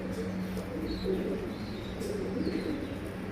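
A rescued domestic pigeon with feathered feet coos softly and repeatedly in a coop, low rolling calls over a steady background hum, with faint chirps from other birds.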